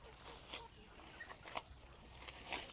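Native chickens cluck softly while feeding on taro leaves and grass in a ranging area, a few faint, scattered clucks spaced apart against a quiet background.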